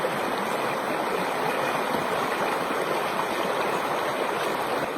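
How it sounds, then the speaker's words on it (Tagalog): A river stream flows steadily where clothes are being washed, giving a constant close, full rush of water with no speech heard. "Ang sarap talaga maglaba dito sa ilog"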